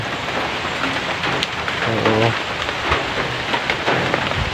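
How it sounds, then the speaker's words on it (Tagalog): Steady rain pouring down, a dense continuous hiss of drops striking surfaces, with a brief faint murmur partway through. "ayaw pa rin tumila ng ulan"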